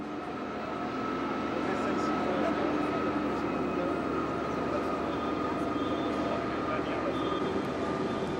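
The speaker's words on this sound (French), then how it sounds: "Le TGV 607 à destination de Lyon-Pardieu et Lyon-Perrache est à quai." A TGV Sud-Est high-speed train stands at a platform in Paris Gare de Lyon in 1995, a steady loud hum of idling equipment and station ambience running throughout, with faint voices in the background.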